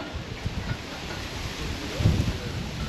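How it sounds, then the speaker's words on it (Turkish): Strong wind blows outdoors across a flower-lined roadside in Karachay-Cherkessia, producing a constant rushing roar with low buffeting gusts against the microphone and no talk. "Bayağı sert bir rüzgar var."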